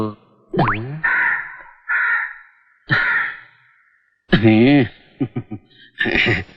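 A crow in a Kannada film scene gives several loud, harsh caws spaced across the clip, close and prominent, with a short burst of quicker calls near the end.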